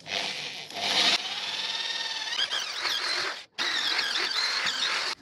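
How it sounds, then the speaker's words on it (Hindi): A power drill bores into a wall to hang a mirror, giving a loud, steady, high-pitched grinding whine that pauses briefly and then continues, with no talking. "तो यहाँ पर हम ड्रिल करते हैं"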